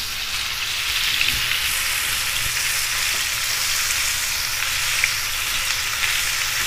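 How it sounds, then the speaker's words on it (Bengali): Tandoori chicken fries in oil on high heat and is stirred now and then. A dense, loud, rain-like sizzle runs continuously with a low background hum and occasional soft scrapes. No talking. "এভাবে একটু নেড়ে ছেড়ে নিচ্ছি যেন নিচে তেল লেগে না যায়।"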